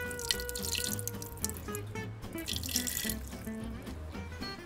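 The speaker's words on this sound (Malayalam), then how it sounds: "ഇനി ഇതിലേക്ക് കുറച്ച് വെള്ളം ഒഴിച്ചു കൊടുക്കാം." Water poured from a glass into a pressure cooker holding masala-coated beef for a Kerala-style beef fry, a steady trickling splash with dripping, close and without speech.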